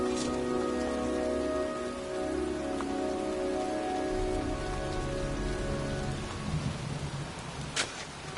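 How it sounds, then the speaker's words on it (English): Steady rainfall at night in the video game Heavy Rain, a continuous soft hiss of drops with a low background hum and faint tonal ambience, no voices. "It's cold. It's raining."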